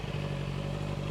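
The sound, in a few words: Honda CBR650R E-Clutch motorcycle engine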